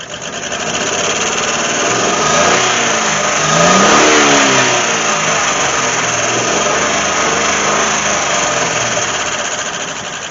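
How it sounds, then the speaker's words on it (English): An old truck engine that sat for years after running under a semi runs steadily with a loud, constant drone and a slight swell in revs midway, heard alone without talk. "she's starting to run a little better, I think."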